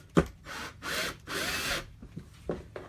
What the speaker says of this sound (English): there's a board that runs across the top of this that we are screwing into